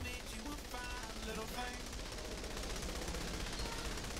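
Rapid, dense rifle fire from the video game Saints Row: The Third, glitched into a continuous buzzing stream of shots, steady and loud, with game noise and a voice in the background.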